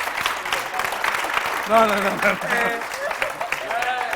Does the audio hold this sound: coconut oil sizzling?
no